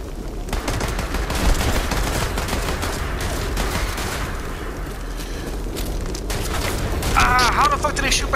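Rapid gunfire and bursts from a Fallout 76 player-versus-player fight, continuous and loud through the whole stretch, with voices talking over the shooting and a brief squeaky vocal sound near the end.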